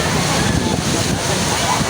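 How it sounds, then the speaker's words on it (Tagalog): Strong typhoon wind sweeping a busy Manila market street in Divisoria, a loud continuous roar like rushing water, steady and close throughout. "lakas ng hangin"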